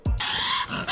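A small Australian animal the size of a small dog, apparently a Tasmanian devil, gives a loud, harsh, raspy scream just after a brief thump. The scream holds for most of a second, breaks briefly, then flares again.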